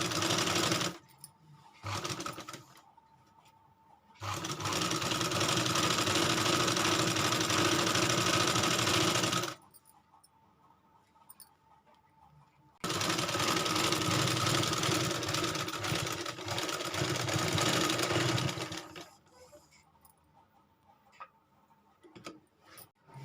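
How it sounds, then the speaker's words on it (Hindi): A sewing machine stitching a salwar runs in two long, loud bursts of rapid mechanical chatter, separated by quiet pauses with faint handling clicks, no talking. "अब हम इसको सिलाई लगाएंगे।"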